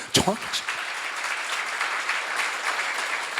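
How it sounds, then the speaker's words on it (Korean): Church seminar congregation breaks into clapping after a brief spoken phrase at the start, a steady wash of hands filling the room at moderate loudness. "믿는 사람만 박수 쳐봐요"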